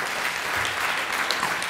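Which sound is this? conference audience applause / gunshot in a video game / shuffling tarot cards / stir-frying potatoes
conference audience applause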